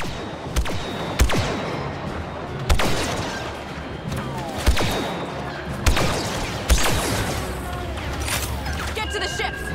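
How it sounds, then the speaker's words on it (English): Blaster fire in Star Wars Battlefront 2 during the Battle of Jakku: sharp zapping shots at irregular intervals, several loud close bursts over a busy battle background, with voices shouting amid the fighting. "Then just keep shooting!"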